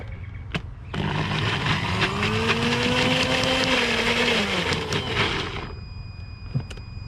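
A countertop blender running off a car's power inverter whirs loudly and steadily for about five seconds as it purées chilli crab sauce ingredients, bird's eye chilli and olive oil, its motor pitch wavering before it cuts out abruptly.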